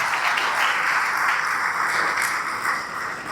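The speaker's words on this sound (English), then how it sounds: "let's give all of them a round of applause" An audience at a chamber of commerce awards celebration gives a dense round of applause, with many hands clapping steadily throughout before it starts to taper off at the end.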